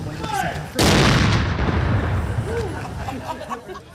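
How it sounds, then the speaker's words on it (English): A Civil War era cannon fires during a Memorial Day salute, one sharp, loud boom that rolls away into a long echo, with crowd voices chattering before and after. "Napanee also rolling out a Civil War era cannon and firing it off as part of its"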